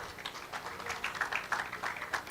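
Audience applause at a female lawyers' real estate conference: a steady, moderate patter of many hands clapping together, sustained throughout without a clear break.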